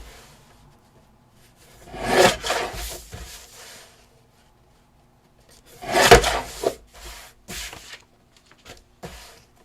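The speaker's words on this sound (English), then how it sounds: "So I'm just going to trim this one up a little bit." Paper pages from a 1949 children's activity book are trimmed for a handmade journal, with two close bursts of rustling, crisp cutting about four seconds apart and quiet between them.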